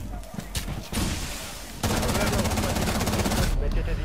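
Rapid automatic gunfire from a video game bursts out close and loud, first in scattered shots, then in a dense continuous stream of rounds that stops abruptly near the end.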